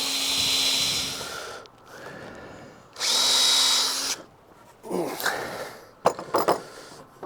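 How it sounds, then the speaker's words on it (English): A power drill pre-drills holes in wood while building a storage shed: two long, loud whirring runs, then shorter, choppier bursts with clattering handling noise. "I'm gonna run through here and pre-drill some of these real quick"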